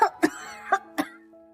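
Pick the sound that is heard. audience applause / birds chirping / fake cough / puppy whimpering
fake cough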